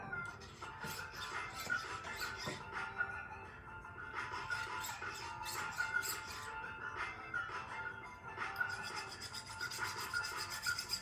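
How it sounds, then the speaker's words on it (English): A hand file rasps back and forth on an 18ct yellow gold wedding band, taking the burr off in faint, repeated strokes with no talk. "Just file the burr off that."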